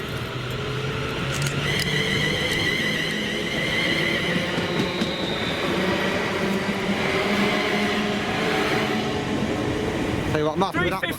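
Class 350 unit 350-249 accelerates away from Stafford station, its motors giving a rising electric whine over a steady rolling roar, with a voice speaking partway through.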